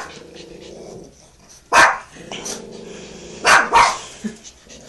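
A few sharp dog barks with a low growl, loud and close, in short bursts over a steady low indoor hum.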